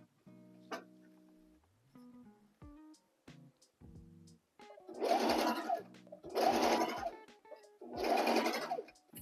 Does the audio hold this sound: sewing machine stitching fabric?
yes